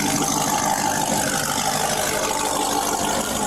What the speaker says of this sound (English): That's definitely a modified exhaust for me because I wrote that ticket all the time.